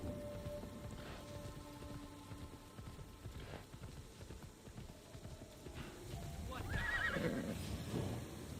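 A horse in the video game Assassin's Creed Shadows clip-clops along with a whinny near the end, over rain falling on surfaces and a steady game ambience.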